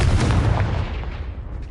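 A Confringo fire-blast spell exploding in the video game Hogwarts Legacy, a heavy booming blast with a deep low rumble that slowly decays and fades, loud and close, with no speech.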